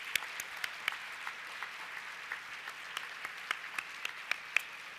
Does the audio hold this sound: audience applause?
yes